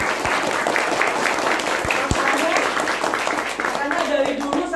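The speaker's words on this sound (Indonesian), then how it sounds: "Ya tepuk tangan kita semua." Loud, dense applause from an audience at an Islamic boarding school education seminar, sustained clapping with a few sharp nearby claps and some voices mixed in.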